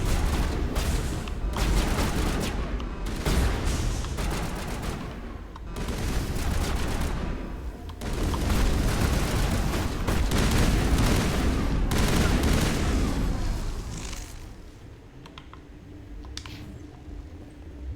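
Enemies fire on the player in the video game Mass Effect, with repeated bursts of gunfire and booming shots rising and falling in dense waves across the stretch, loud and busy, thinning out toward the end.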